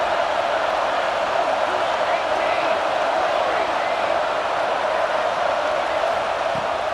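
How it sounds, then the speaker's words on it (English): A stadium crowd roars in the video game EA Sports College Football 26, a broad, sustained wall of cheering that stays loud and even from start to finish. "This crowd, full throat, splitting the eardrums and letting them know it's going to be a long day."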